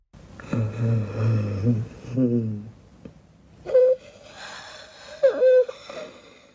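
Loud, wheezing snores close up: several long, rasping, whistling breaths separated by short pauses.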